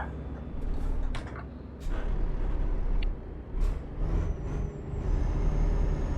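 A truck in Euro Truck Simulator 2 slows down, with a hissing air-brake burst and engine rumble easing under a steady low drone, and a few brief clicks close by.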